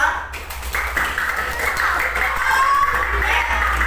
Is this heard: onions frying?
no